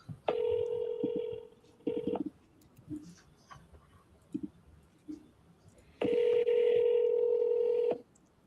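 Telephone dialing tones sound as steady, loud electronic beeps in three separate bursts: one long, one short, then another long one, with faint clicks and quiet gaps in between.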